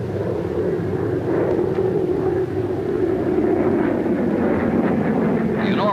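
A McDonnell F2H Banshee jet fighter with J-34 engines making a low-level, reduced-speed carrier approach, a loud continuous jet roar and rumble filling the whole stretch, with a faint voice underneath.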